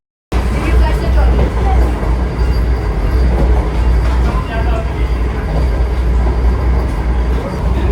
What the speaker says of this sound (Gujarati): 130 કિલોમીટર પ્રતિ કલાકની ઝડપે આપણી ટ્રેન દોડી રહી છે.